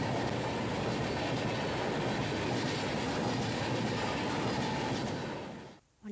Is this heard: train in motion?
yes